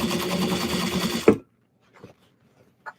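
A sewing machine stitches a seam on a fabric bag, running loud and close in a fast steady whir, then stopping abruptly with a clunk, followed by a few faint handling clicks.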